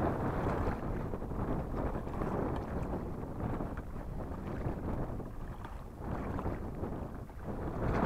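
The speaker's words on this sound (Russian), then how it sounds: "Поднялся ветер." Wind gusting over the Moksha river during a cold fishing trip, a steady low rumbling roar of buffeting air with no voices.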